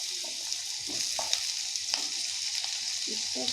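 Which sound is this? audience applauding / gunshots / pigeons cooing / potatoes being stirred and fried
potatoes being stirred and fried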